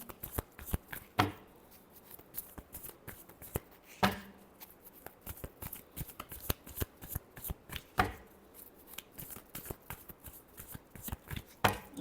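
Tarot cards are shuffled over and over, producing fast papery flicks and soft slaps in an uneven rhythm, close to the ear, punctuated by louder clacks every few seconds.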